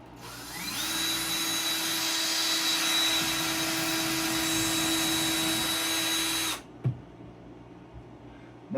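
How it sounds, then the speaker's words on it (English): A power drill pre-drills holes into a live edge wooden shelf board in Alaska, one loud steady whine running for about six seconds close by, then stopping, followed by a few faint knocks. "Go pre-drill them out to keep the wood from splitting"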